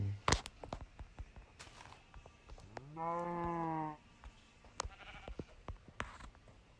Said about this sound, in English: Call the sheep Jeb